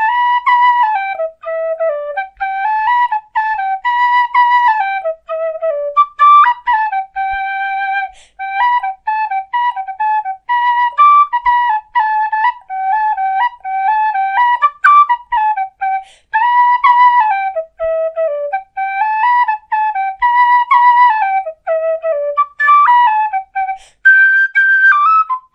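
A bright brass high D tin whistle plays a lilting melody, clear and near, not shrill, with ornamented runs and brief breaths between phrases, unaccompanied.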